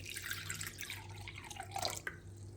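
Water being added to a pepper paste sauce in a kitchen, heard as quiet trickling and splashing into a bowl, with faint drips near the end.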